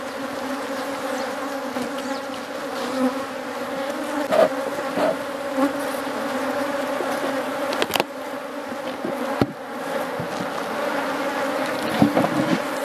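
Honeybees hum steadily in a dense swarm around a hive being divided into a new daughter colony, a continuous close buzz with a few brief knocks and clicks, while a smoker is used.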